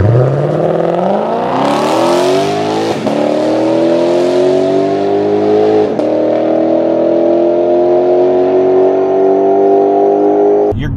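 A sports car's engine runs loud and steady in manual mode, revving up at first and then holding a strong, continuous drone with a few brief shifts in pitch, close by and alone without talk.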